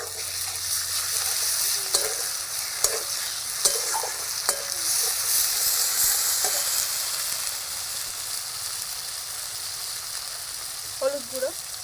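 Onion and ground spice paste frying in a pan for ghugni, a steady close sizzle with occasional stirring scrapes and clinks throughout, no talk.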